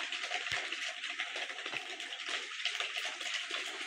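Salt being stirred into about 200 grams of water to make salt water for a bathroom cleaner, heard as a steady wet swishing and sloshing with two soft knocks, close and continuous.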